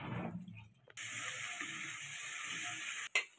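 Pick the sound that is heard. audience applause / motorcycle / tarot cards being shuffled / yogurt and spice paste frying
yogurt and spice paste frying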